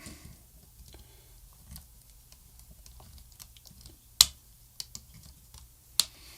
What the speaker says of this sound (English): It's going to cut these two wires to hot on the ground because we ain't going to need that. And I should just snip them off.